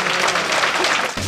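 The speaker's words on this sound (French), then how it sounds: "Mesdames et messieurs, une bonne main d'applaudissements pour M. Bruno Marchand." Dense audience applause at a public forum on homelessness in Quebec, welcoming the mayor of Québec; a continuous, loud wash of many hands clapping, easing slightly near the end.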